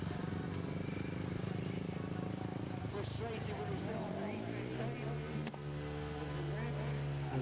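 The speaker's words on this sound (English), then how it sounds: "James Cockle doing a tyre burn by the start" Speedway motorcycle doing a tyre burn at the start line of a National League meeting, engine droning loudly and steadily throughout with a rising rev sweep midway, under a commentator's talk.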